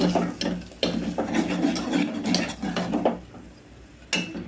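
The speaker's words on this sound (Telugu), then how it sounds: "మధ్య మధ్యలో ఇట్లా కలుపుతానైతే ఉడికించుకోవాలి" Garlic and ripe tomato chutney stirred in a cooking pot, a spoon scraping and rubbing against the metal in repeated strokes, with thick mushy squelches, close and fairly loud.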